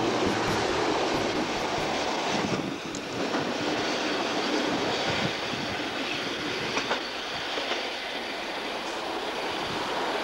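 ALn railcars and Cne trains roll past in 1995, their wheels clattering loudly and continuously over the rails on a line with tunnels beside a lake, with the rumble shifting slightly as the carriages go by.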